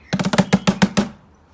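Plant pot struck as a stand-in for a surdo, the Brazilian bass drum, giving about eight quick, close, dull thumps in an even rhythm that stop after a second and fade out.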